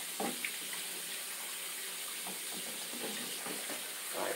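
A bathroom sink tap runs steadily during face rinsing, a constant hiss of flowing water with small splashes breaking through as hands move under the stream.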